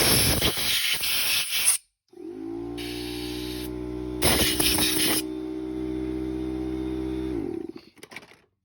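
Compressed air blasts loudly out of the holes of a Simpson pressure washer pump during a rebuild, in several harsh hissing bursts with a steady compressor drone running between them.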